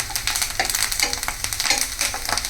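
Ingredients sizzle and crackle steadily in a hot pan, with bursts of spattering throughout, close and fairly loud with no voices.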